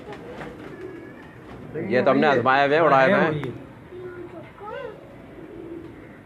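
Pigeons coo on a rooftop while someone talks loudly over them, the soft calls sitting under and between his speech.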